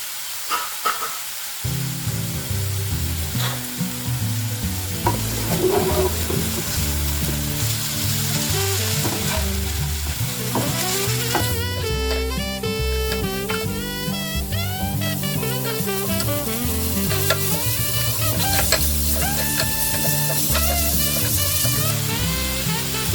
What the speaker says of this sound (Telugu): స్టవ్ హై ఫ్లేమ్లోనే పెట్టుకుని వేయించుకోండి